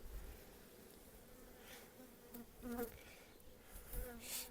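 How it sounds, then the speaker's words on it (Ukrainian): Honeybees buzz faintly and continuously at close range on a hive frame, with a few louder passes drifting in and out over a soft background hiss. "на цій рамці дивлюся багатенько бджоли"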